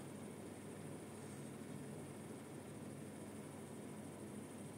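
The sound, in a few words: air conditioner fan at maximum speed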